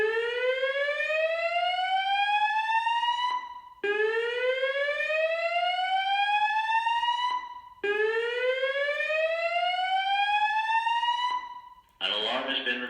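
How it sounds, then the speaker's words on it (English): A building fire alarm sounds three long rising whoops in a loud repeating cycle. A short burst of electronic tone follows the third whoop. "An alarm has been reported. Please prepare to evacuate by going to the stairwell door."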